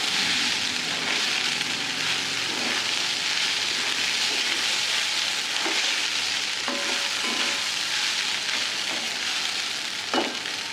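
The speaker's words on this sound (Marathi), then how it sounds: "कोथिंबीर चांगली मिक्स करून घेते।" Kurdai chutney sizzles and fries in a pan while coriander is stirred in, a steady loud hiss with occasional scraping clicks from the stirring.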